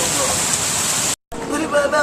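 Heavy rain pours during a lightning storm, a dense steady hiss of water that cuts out briefly and then resumes.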